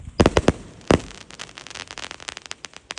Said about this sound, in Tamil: 7 ஸ்டெப்போட ஸ்கை ஷாட் கொளுத்திடுவோமா?